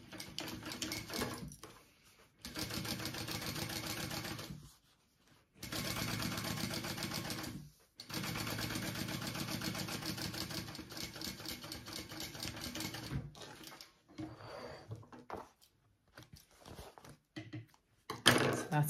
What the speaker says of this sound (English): we are going to top stitch along this piece